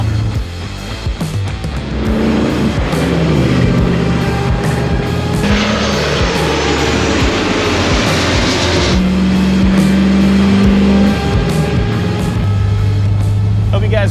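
A 1986 Jeep CJ7 engine drones steadily and loudly throughout a test drive, its pitch shifting as the Jeep works, with voices faintly underneath.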